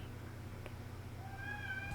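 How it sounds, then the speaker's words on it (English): A female house cat meows softly indoors, a short rising tonal call near the end over steady low room hum, faint and close-ish. "Sorry if you can hear the cat. She's very chatty."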